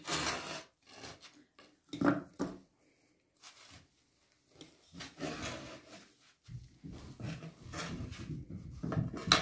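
Irregular dry crackling and tearing sounds, close up, coming in short bursts with quiet gaps, as bread is broken into small pieces by hand for a bread dessert.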